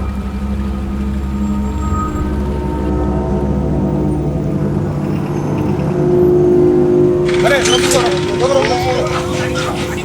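A motorbike ridden along a street, its engine droning steadily close by, with a voice and other people talking over it in the second half.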